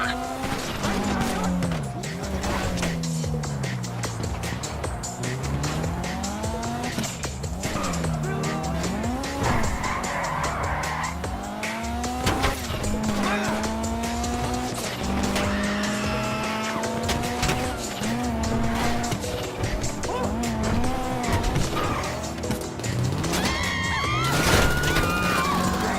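GTA V heist car being driven hard, engine revving and tires squealing repeatedly through turns, loud and continuous over about half a minute, with voices talking intermittently underneath.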